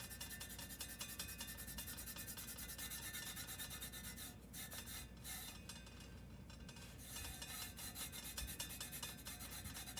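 Burnishing a craft tumbler by hand, a continuous close rubbing and scraping sound with a dense, even texture that barely changes, quiet and alone with no voices.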